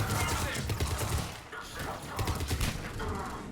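Gunfire from a weapon in the video game Mass Effect 3, a dense stream of rapid shots with a brief lull in the middle, heard alongside game effects and talking.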